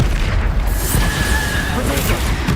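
A Bombarda spell detonates in Hogwarts Legacy, a loud, dense booming blast with rumbling low end that fills the whole moment, with faint voice traces mixed underneath.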